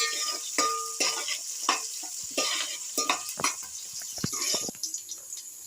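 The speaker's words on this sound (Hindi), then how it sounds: "प्याज को ब्राउन कर लेंगे इसी तरह से।" Onions browning in hot oil for chicken biryani, a steady close sizzle broken by repeated scraping stirs and light clinks of a spoon against the pan, with no talking.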